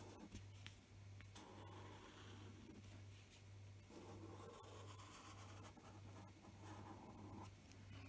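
Pen tracing in purple over a pencil line while drawing a Zentangle owl, faint soft scratchy strokes rubbing on paper in short repeated passes, quiet with a low steady hum underneath.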